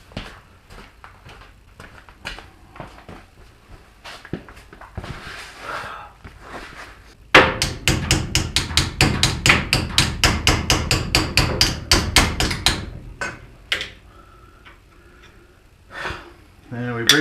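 Rapid, loud metal hammer blows break a cotter pin on a car tie rod, a dense run of strikes in the middle after some scattered taps and breathing, then quieter knocks at the end.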